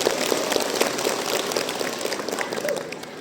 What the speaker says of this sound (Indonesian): Tepuk tangan untuk nasihat